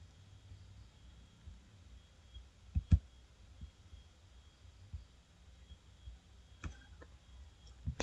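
A few sharp computer mouse clicks sound sparsely and close, separated by long quiet stretches over a faint steady hiss, with no talking.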